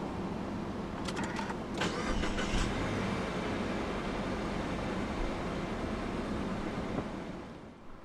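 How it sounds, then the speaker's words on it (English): A few quiet clicks, then the push-button start of a 2016 Subaru XV 2.0i AWD engine turns over and settles into a low, steady idle. "Put your foot on the brake and press the start button to the right of the steering wheel"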